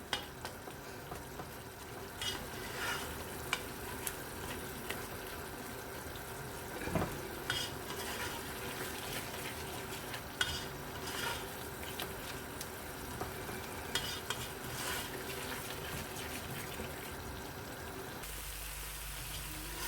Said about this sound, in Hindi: अब अच्छी तरह से हम मसाले की बुनाई कर लेंगे